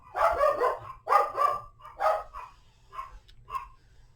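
Several dogs bark in short loud bursts at a cat indoors, three strong volleys followed by two fainter yips, close by with no talk over them.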